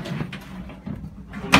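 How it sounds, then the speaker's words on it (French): Short, muffled sliding and knocking sounds from a large storage drawer under the bed of a 2018 Bavaria T 746 C motorhome, ending in a sharper clack at close range. "On a deux grands tiroirs."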